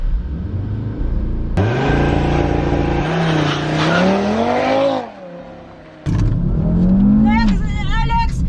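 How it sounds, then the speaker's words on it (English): A 2021 Audi RS3 performs a launch-control start with traction control off: a loud, close engine rev builds, then pulls hard through rising gears, drops briefly at a shift, and surges again, with faint tire noise. "So this is how you launch the RS3."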